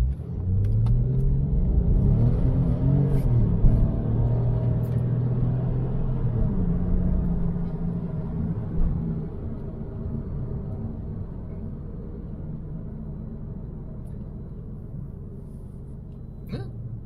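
A car accelerates from a standstill to 60 on a winter road, with a steady loud engine rumble that rises through the gears for several seconds and then settles into a quieter, even cruising drone.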